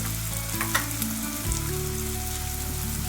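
Fenugreek powder frying in a pan for homemade chole, a steady close sizzle with a few light scrapes of stirring and no voices.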